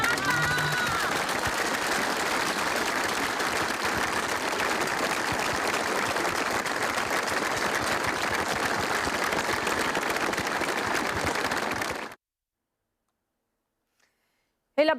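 Applause at a funeral as mourners accompany the coffin, with white and blue balloons released: sustained, dense clapping from a crowd, fairly distant and even, cutting off abruptly near the end.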